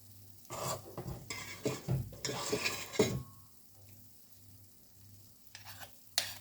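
Scraping and clinking of a spoon against a frying pan in bursts as yeast pancake batter is spooned in, with a soft sizzle of frying beneath, then a quieter stretch and a final scrape.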